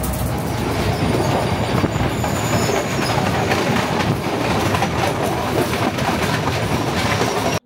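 The Colombo to Galle train in Sri Lanka rolls along at speed, a loud continuous roar of wheels and carriages with rattling clatter throughout, heard from inside.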